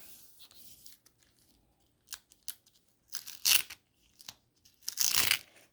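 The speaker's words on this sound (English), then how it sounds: "I'm just going to pick up some paint on this plastic bag and just kind of press it down." Soft crinkling and pressing of a plastic bag onto wet paint in a few short bursts, with quiet scrunching sounds between pauses, close up.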